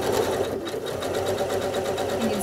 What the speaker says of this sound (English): I'll stitch off my scrap and work my way into the quilt.